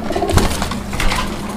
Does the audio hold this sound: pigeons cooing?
yes